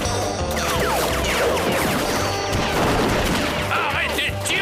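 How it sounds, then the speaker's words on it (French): Animated Wild West hold-up scene with a rapid, dense volley of cartoon gunshots, continuous cracks layered over clattering and shouting voices for several seconds. "Et tirez, abruti, tirez!"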